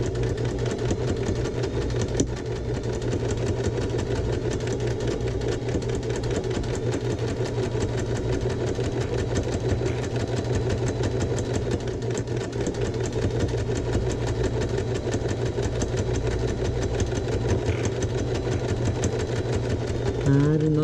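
Sewing machine stitching twill fabric at 2.5 stitch length with backstitching, running as a steady, continuous mechanical hum and clatter throughout, with someone speaking over it.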